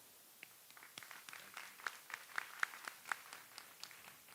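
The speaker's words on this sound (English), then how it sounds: "Please join me with an applause as I would like to welcome and thank the Hazel Park Board of Education for their support." An audience at a high school commencement claps in scattered, uneven applause, fairly faint and distant in a large room, with a few sharper individual claps standing out.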